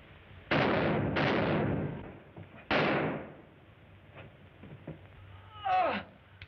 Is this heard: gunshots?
yes